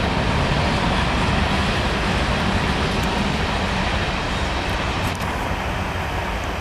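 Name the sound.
train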